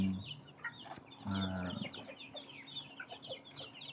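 Broiler cross Jersey Giant chickens, six weeks old, cluck and murmur nearby in a quiet coop, with scattered soft chirps and one longer, louder call near the start.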